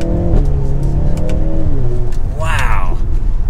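A 2023 Mercedes-Benz C43 AMG 4MATIC hybrid accelerates at half throttle, its engine note rising loud and close with a smooth upward pitch sweep and no break between gears, while a voice talks over it.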